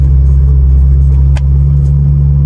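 A Ferrari 812 GTS with a fault drives along, its engine a loud, steady, deep rumble heard from inside the cabin, with one brief tick partway through.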